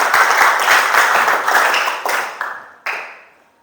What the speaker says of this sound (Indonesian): Oke, berikan aplaus buat dia.